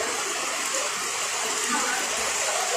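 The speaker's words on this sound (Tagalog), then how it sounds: "Sapa na malaki na yan eh." Swollen creek in flood at Valenzuela, a steady close rush of churning water filling the short clip, with a voice talking faintly over it.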